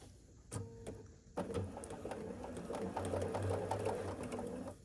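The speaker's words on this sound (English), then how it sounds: "And then we're going to turn it around the other way and sew this one here." A sewing machine stitches quilt block pieces in steady bursts, with a short run early on and then a longer continuous hum of stitching, close and moderately loud.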